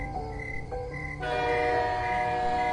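A train rolling past with a sustained horn blast, steady rumbling and whining tones growing louder partway through, used as a sound effect in a Bengali horror story.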